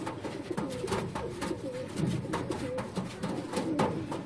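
Breeder pigeons, a Ferozpuri pair, coo in a cage: soft, low rolling coos repeat close up in an irregular rhythm, with faint rustling between them.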